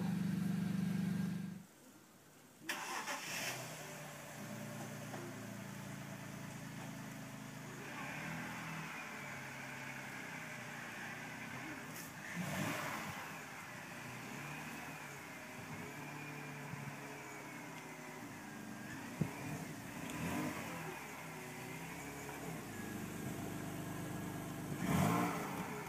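A 2004 BMW 320i E46 with about 50,000 miles running with the door open, its steady engine note carrying on for most of the span with a few swells in level and no talk over it.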